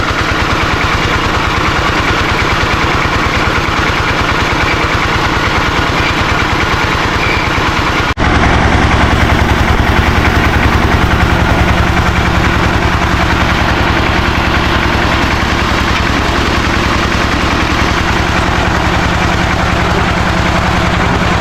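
A water well drilling rig's engine drones loud and close without a break, a heavy idling rumble that shifts abruptly to a deeper, rougher tone partway through.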